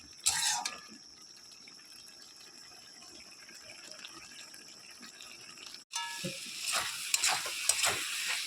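Pumpkin stalks simmer and sizzle in a pan as the water cooks off, with a quiet steady sizzle broken by clanking stirring and scraping bursts close by.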